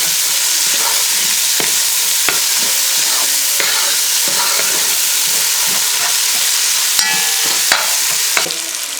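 Tomatoes being mixed with spices in a cooking pot for a bichique curry: repeated scraping stir strokes and spoon knocks over a steady close sizzle, with no talking.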